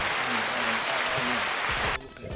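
Studio audience at a live podcast taping applauds steadily as a broadband wash of clapping, then cuts off abruptly near the end.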